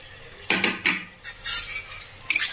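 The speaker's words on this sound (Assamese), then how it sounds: "আকৌ ধুনীয়াকৈ অলপ লৰাব লাগিব" A spoon scrapes and clinks against a bowl while mixing a mango pickle with split ripe chilies, several short bursts of stirring separated by brief quiet pauses, close and fairly loud.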